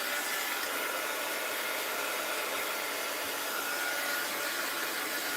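A blow dryer drying a thin layer of paint on an art journal page gives a steady, close, even whoosh of air that runs unbroken throughout.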